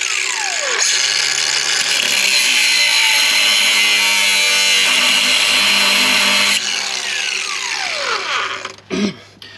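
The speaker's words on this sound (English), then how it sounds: "So first we're going to cut this clamp off." A power tool cuts an exhaust pipe clamp off beneath a 1968 Ford Thunderbird with a 429 Thunderjet big block, giving a loud, steady high whine for about eight seconds that then winds down and stops.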